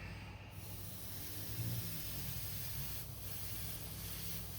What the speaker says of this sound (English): I mixed up the paint, thinned it to 50-50, and then I'll just give a few passes with the airbrush